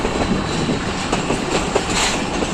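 The Kohat Express rolls along the rails onto a branch line in Pakistan, a loud, close, continuous rumble with rhythmic clickety-clack of wheels over rail joints and faint squeals.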